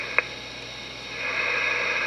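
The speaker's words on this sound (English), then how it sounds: "There's radio noise, okay, when I turn the volume up." A GE Superbase radio with its volume turned up gives off a steady, faint hiss of static. A thin tone sits under the hiss, a brief click comes early on, and the noise swells slightly toward the end.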